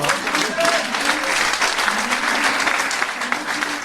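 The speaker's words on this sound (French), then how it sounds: "vous pouvez applaudir à la nouvelle championne de France, pistolet 25 mètres junior fille, Gabrielle" Steady applause from an audience at a French national sport shooting championship ceremony, honoring a junior women's 25 m pistol winner; dense, continuous clapping that fills the whole moment.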